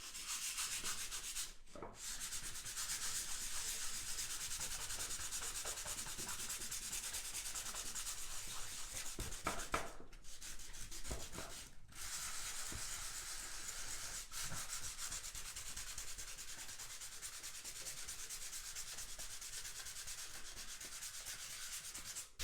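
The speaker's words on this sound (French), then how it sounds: "Je termine le ponçage de ces petits trucs" Wood being sanded by hand with 180-grit sandpaper, a steady, quiet rasping rub with a few brief pauses, heard up close and alone.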